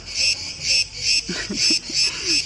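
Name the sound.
cicadas chirping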